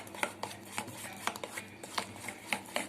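Eggless cake batter is beaten in a bowl with quick, rhythmic clicks and taps that repeat fairly evenly and sit close by at a soft level.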